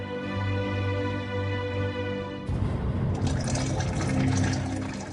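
A giant tank is filled with red-dyed salt water. A steady tonal hum plays first, then gives way halfway through to a loud, broad rush of pouring water that continues to the end.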